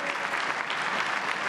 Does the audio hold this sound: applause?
yes